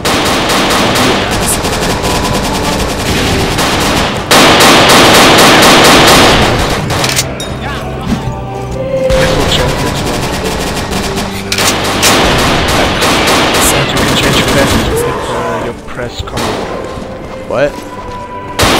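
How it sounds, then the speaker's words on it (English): Automatic gunfire from the dinosaur-themed shooter game Dino D-Day, loud and near, rattling in sustained bursts with heavy thuds and booms, while players talk over the action. "I'm only shooting you because you're a Nazi dinosaur."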